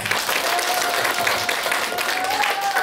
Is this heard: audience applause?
yes